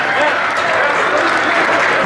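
Steady, loud audience applause and crowd noise for a DJ at a DJ battle event, a continuous wash of clapping with no break.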